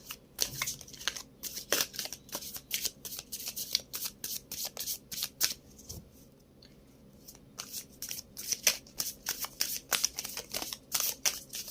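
Tarot cards riffled and shuffled by hand in a quick run of crisp flutters, with a brief pause midway before the shuffling resumes, close and fairly quiet, with no voices.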